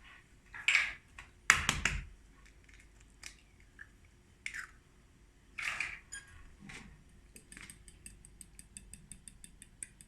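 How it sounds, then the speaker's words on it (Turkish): Eggs cracked into a pan for a Turkish onion and cheese breakfast dish, a few sharp cracks and taps close by, fairly faint, with light clicking afterward and no talk. "biz de hemen yumurtalarımızı şöyle kıralım arkadaşlar"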